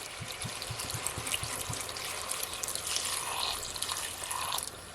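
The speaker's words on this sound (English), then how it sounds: "I'm gonna add at least 1 cup of vinegar, white vinegar." About a cup of white vinegar being poured over crispy fried fish for Jamaican escovitch, a steady liquid trickle and splash that stays close and fairly loud throughout, with no talking.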